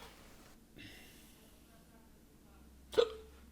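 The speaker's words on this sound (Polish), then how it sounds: "Oje, czkawka." One sharp, sudden hiccup breaks through near the end, close and distinct against a quiet background with faint game sounds earlier.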